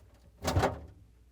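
Glass shelf insert lifted and slid out of a Frigidaire/Electrolux refrigerator, a single brief scrape and clunk lasting under half a second, near and fairly quiet.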